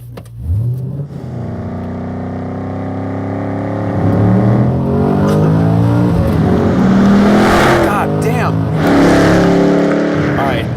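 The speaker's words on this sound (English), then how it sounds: "the engine note is pure muscle car" A Chevrolet Camaro Z28 with its LS7 V8 revs hard, the deep engine note climbing and falling through several loud, close pulls that build in intensity over the clip.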